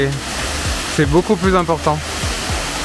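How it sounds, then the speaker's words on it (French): At Kathu Waterfall in Phuket, rushing water makes a constant broadband wash, while someone talks briefly over it in French. "il y a de l'eau qui coule et c'est beaucoup plus important"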